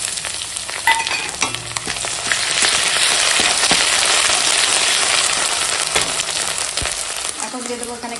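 Ginger-garlic paste added to fried onions in hot oil sends up a loud, continuous crackling sizzle, with a few faint clinks near the end.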